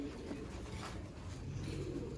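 Pigeons kept by a breeder coo softly in a low, murmuring tone against a constant background hum, faint and brief.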